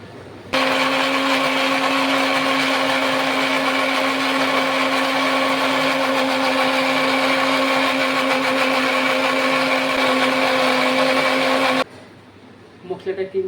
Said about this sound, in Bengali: লঙ্কা আর আদা মিক্সচারে গ্রাইন্ড করে রাখি